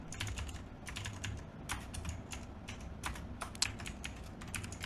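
Fingers tap out a password on a computer keyboard in quick, close, irregular bursts of light clicking keystrokes against a quiet background, with no voices.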